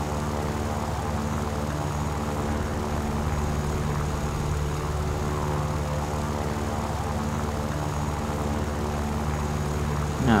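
Propeller fighter plane engine in War Thunder arcade air combat, a steady droning buzz held at constant loudness for about ten seconds with no talking over it.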